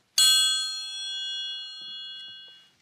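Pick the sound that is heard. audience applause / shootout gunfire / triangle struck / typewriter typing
triangle struck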